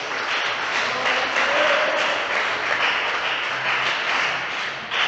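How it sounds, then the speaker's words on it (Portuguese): A church congregation applauds together in a joyful round of clapping, a steady dense wash of many hands sustained for the whole stretch, fairly loud and unbroken, with no clear speech over it. "dê uma salva de palmas bem alegre para Jesus"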